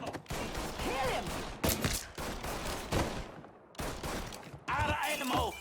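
Gunfire erupts in a firefight in the crime game Mafia 3, with loud, close bursts of rapid shots broken by short pauses, overlapping with shouted voices and the chaotic clatter of combat.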